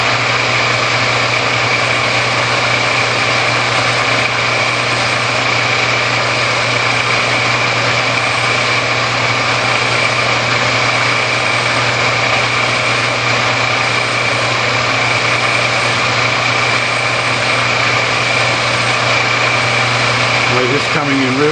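A lathe runs at slightly above its lowest speed while a graver tool cuts a small chamfer on the end of a workpiece, a loud, steady mechanical hum with a constant tone that carries unchanged through the whole stretch.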